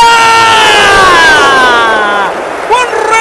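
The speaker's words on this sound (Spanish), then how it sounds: "me sorprendió el grito de la gente" A stadium crowd at an Argentina vs Colombia World Cup qualifying football match roars and cheers loudly, the swelling shouts mixed with an excited commentator's voice and easing slightly toward the end.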